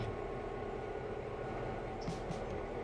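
A locomotive pulls away in the railway simulation game Railroader, a steady low mechanical rumble with a couple of brief hissing bursts near the end.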